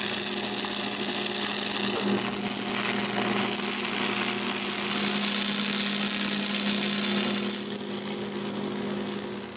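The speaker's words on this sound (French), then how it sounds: "quand j'ai les 4 morceaux en main, je peux les souder en place" Metal pipe pieces are welded together for a gate, giving a steady, loud crackling hiss with a constant buzzing hum that runs unbroken for nearly ten seconds before easing slightly at the end.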